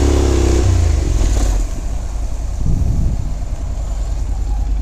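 Moped engines rev and roar in a steady, noisy rumble, with a louder surge partway through, as the small motorbikes pass nearby on a street in Shepherd's Bush.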